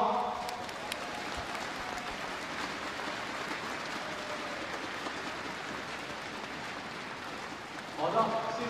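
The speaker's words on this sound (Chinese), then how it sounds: "然后我们给他一些掌声来鼓励一下他" A crowd at an indoor women's futsal final claps in a sustained, rain-like wash of applause to encourage an injured player, with a faint murmur of voices underneath and a slight swell at the end.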